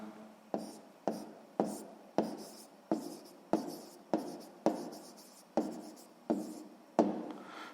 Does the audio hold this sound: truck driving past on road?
no